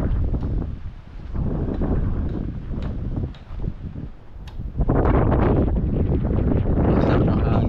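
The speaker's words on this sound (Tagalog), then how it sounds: "Ang sarap ng hangin." Wind buffeting a microphone outdoors beside a small boat, a rough rumbling gust that rises and falls, then grows louder and steadier toward the end.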